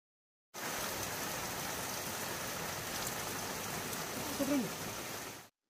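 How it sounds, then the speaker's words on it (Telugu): Light drizzle falls steadily outdoors on the way to Gandahati Waterfall in Odisha, a soft, even hiss of rain with a faint brief voice near the end. "ఇప్పుడు చిన్న చిన్న చినుకులు పడుతున్నాయి, కానీ పెద్దగా వర్షం వచ్చే ముందే మేమైతే వెళ్తున్నాము"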